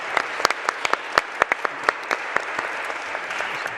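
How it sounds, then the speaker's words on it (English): Audience applause at a conference session on climate action after a conversation with two mayors, a close burst of sharp, distinct claps from a modest crowd that thins out toward the end. "Let's give a big round of applause to our two mayors."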